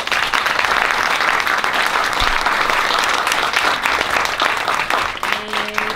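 Sustained loud applause from an audience at a children's school concert, dense steady clapping filling the hall for several seconds with a brief voice near the end.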